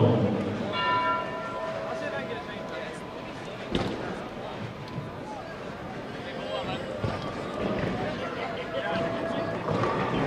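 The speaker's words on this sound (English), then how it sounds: "there it is, the sound of the bell here" A bell rings to start bowling at the 2013 USBC Open Championships team event, a ringing tone early on heard beneath steady talk and bowling-alley noise.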